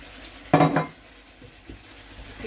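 A spoon stirring curry ingredients with jaggery and lemon zest in a pot, one sharp scraping clatter followed by quieter faint scrapes and taps.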